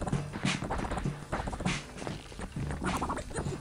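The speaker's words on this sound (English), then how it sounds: "Horse running in the same direction for hours on end!" A horse's hooves clip-clop in a steady running rhythm on a TV show inside the video game Psychonauts, loud and close with no talk over them.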